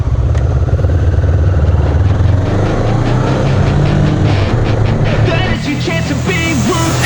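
Honda CB 500 and CBF500 motorcycles rev and ride off, their engines loud and close with a steady droning growl that shifts pitch as they accelerate away.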